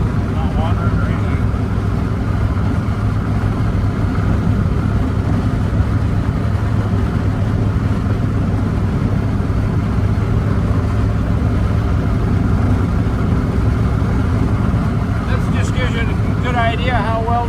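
A 1940 Ford pickup truck drives along with a continuous low engine and road rumble heard from inside the cab, and a short exchange of voices near the end.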